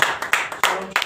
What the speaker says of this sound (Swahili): Pigia Baba makofi.